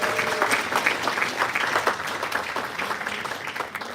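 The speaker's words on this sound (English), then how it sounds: "Can I get a round of applause for all of our participants and the incredible presentation?" An audience at a spring projects presentation night claps steadily for participants, a dense, continuous round of applause from a crowd indoors, moderately loud without letup.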